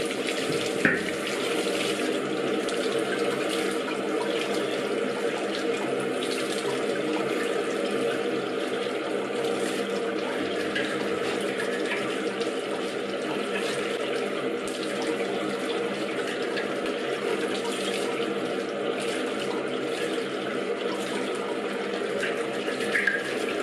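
Tap water runs steadily from a faucet as a blued metal shield is rinsed beneath it, a continuous close splashing rush with small clinks that lasts throughout.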